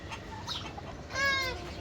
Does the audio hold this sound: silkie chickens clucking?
yes